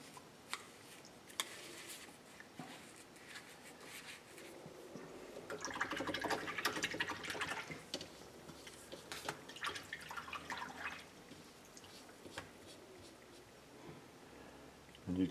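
A paintbrush is worked into a lather in a small tub of brush cleaner, giving faint wet squishing and soft ticking sounds that swell in the middle and then ease off, quiet and close.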